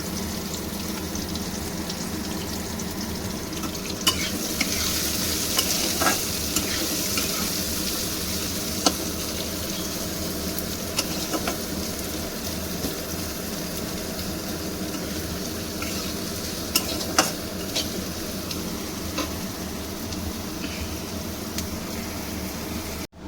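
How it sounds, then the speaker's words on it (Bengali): Onions fry in a pan for egg malaikari while being stirred, a constant close sizzle with occasional scraping clicks from the spatula, no voices. "এই যে পেঁয়াজটা আমি ভালো করে লাল করে ভেজেছি"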